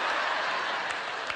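A TV studio audience at a talk show claps and applauds in a dense, steady wash of hands, moderately loud and unbroken, with no voices.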